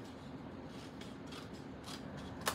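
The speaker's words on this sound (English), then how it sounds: "then I'm gonna take my scissors" Scissors cut paper for a stamp craft with a Disney-inspired frog prince and princess theme, giving several quick soft snips close by, ending with a sharper click, and no talking.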